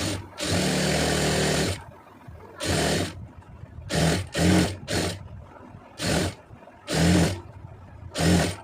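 A sewing machine stitches fabric piping with a folded quarter-inch edge, running in a series of short whirring bursts, one longer run and then repeated brief stitches, close and fairly loud.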